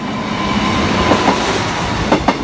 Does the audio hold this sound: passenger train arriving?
yes